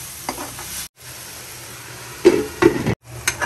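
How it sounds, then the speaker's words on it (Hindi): Tomato masala fries in oil in a pan while a spoon stirs it: a steady soft sizzle with scraping stirring strokes and a few louder clinks, close by, with brief gaps and no talk. "हमारा जो टमाटर है उसे अच्छे से भुनने देंगे जब तक वो ऑयल ना छोड़ दे"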